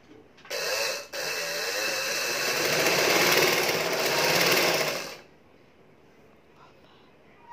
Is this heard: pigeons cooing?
no